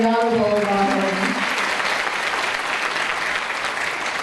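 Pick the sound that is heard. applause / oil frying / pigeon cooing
applause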